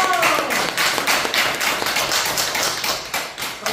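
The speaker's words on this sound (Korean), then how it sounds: "큰 박수 한번 주세요" An audience at a speech and poetry-recitation class bursts into applause, a dense run of close, crisp hand claps sustained steadily for several seconds without talk.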